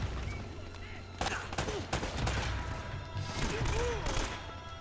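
Gunfire from an AK rifle in the video game Uncharted: Drake's Fortune, bursts of shots crackling over a busy game soundscape with the player talking in between.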